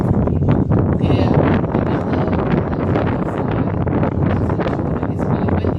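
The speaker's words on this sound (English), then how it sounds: "It's really windy up here." Strong wind buffets the microphone in a constant loud roar, gusting and rumbling throughout.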